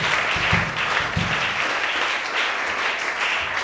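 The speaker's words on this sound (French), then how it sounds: "Acclamons Chantal." Crowd applause for Chantal at a gathering in Gabon, sustained dense clapping at a steady level from start to finish, with no one talking over it.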